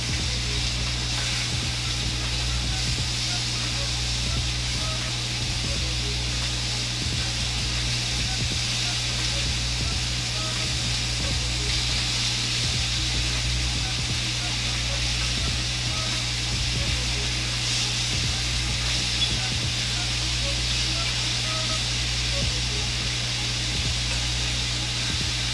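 Vegetables searing in a hot pan for a gumbo give a steady, close hiss and sizzle that holds evenly throughout without pause.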